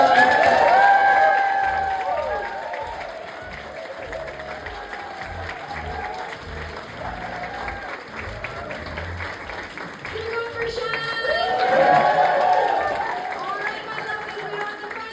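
A stand-up comedy audience breaks into applause and cheering in two swells, at the start and again near the end, with the comedian's amplified voice and quieter crowd murmur in between.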